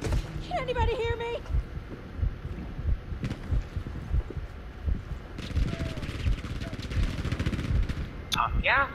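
Gunfire in a first-person sniping match, scattered sharp shots and bursts popping over constant background game noise, with a voice talking at times.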